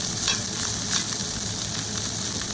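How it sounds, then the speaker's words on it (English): Egg fried rice sizzles steadily in butter in a hot pan, a loud, dense, continuous frying hiss with faint stirring scrapes, close up and without speech. "Make some quick egg fried rice using the butter."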